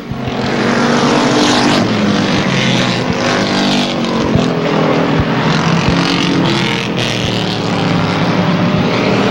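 Race cars in an Airborne Racing event roaring into turn 3, a loud, sustained high-revving engine drone from several cars close by, steady for the whole stretch with faint commentary underneath.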